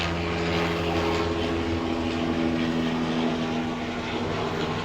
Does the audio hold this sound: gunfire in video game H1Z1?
no